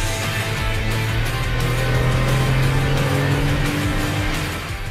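Porsche 911 Targa 2.4 S driving on a race track, its engine droning loud and close with a steady rising pitch as it pulls through the lap.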